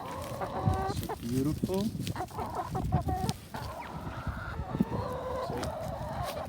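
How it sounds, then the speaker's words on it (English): Several chickens cluck and chatter nearby in winter in New Jersey, a steady, busy stream, with a person briefly speaking softly over them. "These are my chickens."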